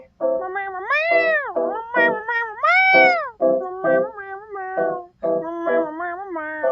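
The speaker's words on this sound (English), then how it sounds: "That's a sad cat" A cat meows repeatedly in long, wavering, mournful cries, loud and close, with short pauses between calls and no talking.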